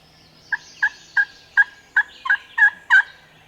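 A run of about eight quick, clucking yelps in a steady rhythm, clear and moderately close against a quiet outdoor background: turkey calling near a wild gobbler just off the roost.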